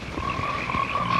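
Frogs croak in a dense chorus from the 1972 horror film Frogs, with continuous trilling calls and a few low croaks throughout, fairly loud and alone.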